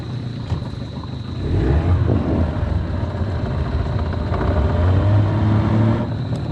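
A two-stroke outboard engine on a mud-crabbing boat runs close and loud, idling with a buzzy drone that swells after a second or so and stays steady throughout.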